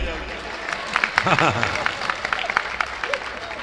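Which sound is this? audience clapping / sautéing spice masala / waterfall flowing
audience clapping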